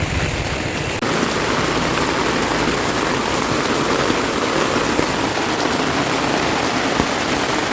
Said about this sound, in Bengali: এত বৃষ্টি এত বৃষ্টি বাপরে যত সময় যাচ্ছে তত বৃষ্টি বাড়ছে